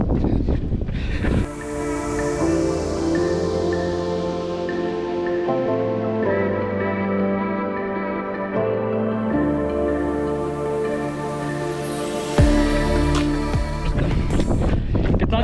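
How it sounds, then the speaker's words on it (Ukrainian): Strong wind on a run in bad weather near a hill, buffeting the microphone in a steady, roaring rush, with a low droning hum underneath throughout. "Фу, вітер неймовірний. Особливо коли дує в лице."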